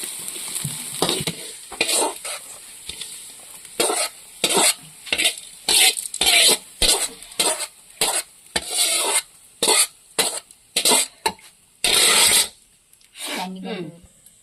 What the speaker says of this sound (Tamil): வெங்காயம்லாம் நல்லா செவக்க வணக்கணுங்க வெங்காயம் நல்லா செவந்து போச்சுங்க